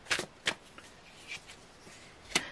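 Tarot cards being drawn and shuffled during a reading, several quiet, crisp paper flicks and slides spaced irregularly, close and soft with no talking.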